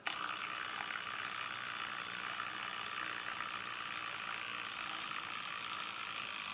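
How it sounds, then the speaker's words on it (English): Solar powered vibrating bug device buzzing continuously, a steady harsh rattling drone at constant loudness, alone without talking. "Sounds like a moth or something caught in the window ledge."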